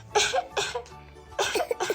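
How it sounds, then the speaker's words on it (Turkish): Several harsh coughs in two close bursts, nearby and fairly loud, with a short pause between them. "Bir öksürsün bakalım"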